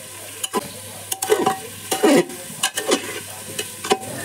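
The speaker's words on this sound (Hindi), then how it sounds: "दाल को ऐड करके हम चलाते रहेंगे ताकि कोई भी सब्जी हमारी जल ना जाए।" Lentils and vegetables for veg pulao are stirred in a pot over medium heat, giving a series of scraping strokes that come and go with a soft sizzle of frying underneath, close by.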